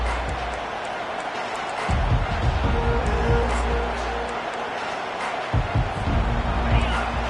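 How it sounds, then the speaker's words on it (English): Football stadium crowd roars in a continuous loud wash of cheering, swelling and thumping in bursts, with a commentator talking over it. "This crowd bringing an ear-splitting welcome to their visitors."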